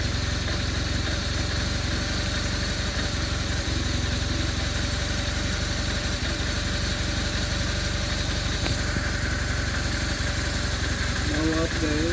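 A 2007 BMW R1200RT motorcycle engine idles steadily and slightly cold, a continuous low rumble throughout with a few brief voice fragments near the end.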